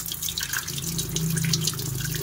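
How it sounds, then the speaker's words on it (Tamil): Water from a shower pours and splashes steadily over a snakehead fish, a continuous close hiss with dripping and spattering and no voices. "ஏதோ பாறை மேலே தண்ணி விடுற மாதிரி."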